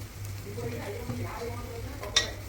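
Ginger garlic paste frying in a pan for a jackfruit seed mutton curry, a low steady sizzle with soft stirring and a brief metallic clink near the end.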